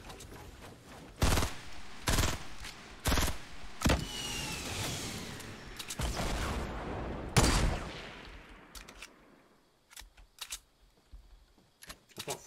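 Assault rifle fire in Fortnite Battle Royale, several loud sharp bursts of shots spaced irregularly, with quieter scattered shots trailing off near the end.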